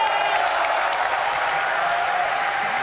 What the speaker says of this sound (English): Crowd, are you going to give Alliance a cheer?